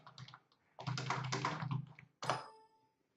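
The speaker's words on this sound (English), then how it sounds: "if I type the following into Matlab, then it does exactly the same as Google does" Typing on a computer keyboard, quiet close key clatter in a burst of rapid taps, a pause, then a short final cluster of keystrokes, no voices.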